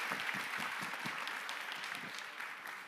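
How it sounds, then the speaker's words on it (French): Audience applause rings out at a Ma Thèse en 180 Secondes finale at IP Paris, a steady, moderately faint patter of many hands clapping for about three seconds with no talking over it. "on peut vous applaudir"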